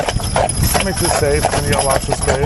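Percheron draft horses pulling a wagon clip-clop on a road in a quick, steady hoof rhythm, with people talking over them throughout.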